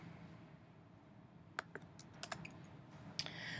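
Quiet clicks of a computer keyboard as a web address is typed into a browser, a few scattered keystrokes in short bursts over a faint steady background hum.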